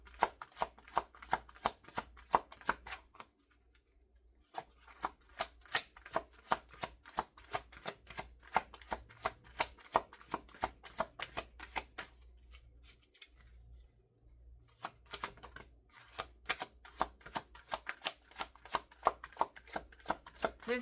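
Shuffling of a new tarot deck: rapid, crisp riffle-like card flicks in repeated bursts with brief pauses between, close and fairly quiet, with no talking.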